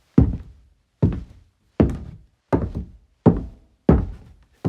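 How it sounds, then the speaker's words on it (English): Six heavy, hollow knocks or footfalls on a hollow wooden foley floor with a deep, bassy thump, evenly spaced about every 0.7 seconds, close and loud with short decays and no talk. "this floor, for instance, is a bit more hollow and more bassy and could be good for an attic"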